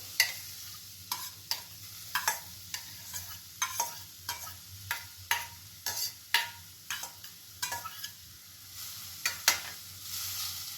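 Grated raw mango sautéing in melted ghee, a spatula scraping the pan in regular strokes roughly every half second over a soft, constant sizzle, close and moderately loud.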